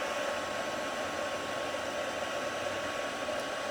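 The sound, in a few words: heat tool warming up to melt embossing powder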